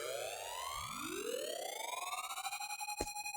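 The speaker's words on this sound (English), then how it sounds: "just a riser from the effin' pack there that sort of builds it up" A riser effect from a sample pack climbs steadily in pitch and builds in intensity, with layered sweeping tones and a fluttering pulse toward the end before cutting off sharply; no voices.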